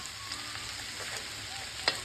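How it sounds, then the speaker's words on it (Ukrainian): Chopped green onion fries in rendered pork fat and is stirred now and then, giving a soft steady sizzle with a faint scrape near the end. "Додаємо до просмаженого сала нарізану зелену цибулю. Помішуючи, смажимо недовго, приблизно 2 хвилини"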